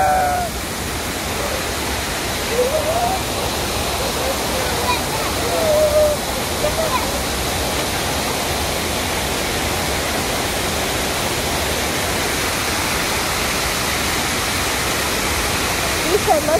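Water pours steadily from the waterfall fountain at the Franklin D. Roosevelt Memorial, a loud, unbroken rushing wash that fills the whole scene. Faint voices of children and adults rise now and then above the roar.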